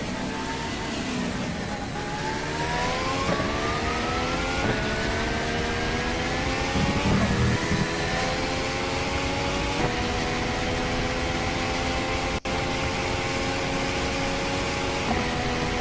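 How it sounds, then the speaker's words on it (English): A Williams Formula 1 car from the WCP F1 2014 mod for the rFactor racing game drones on track, its engine pitch climbing steadily through the gears with a sharp tick near the end. "In terms of raw engine sound, I like the McLaren better, but you get the ancillary sounds with this Williams"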